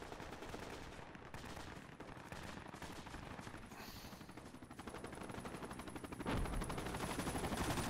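Rapid automatic gunfire fills the battlefield of the Project Reality game on the Falkland Islands map, dense bursts of shots rattling continuously with rising intensity near the end, heard around a player's VW van.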